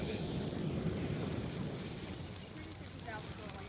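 A six-cell LiPo battery fire burns outdoors on wet grass with a faint, continuous hissing crackle that fades slightly over a few seconds.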